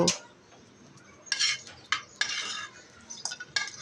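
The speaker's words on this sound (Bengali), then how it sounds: "শুটকিগুলোকে আমি হালকা করে ভেজে নেব" Dried mola fish are lightly fried and stirred in a pan, with a faint sizzle underneath sharp scraping and clinking strokes of a spatula against metal, arriving in irregular bursts close up.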